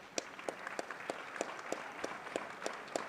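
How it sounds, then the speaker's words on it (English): Scattered applause from a basketball game crowd in a gym, sparse individual claps standing out at a slow, uneven rhythm over a faint background. "We'd like to give you a round of applause for all of you fighting the good fight."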